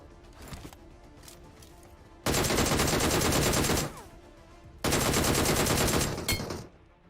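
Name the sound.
gunfire in the video game BGMI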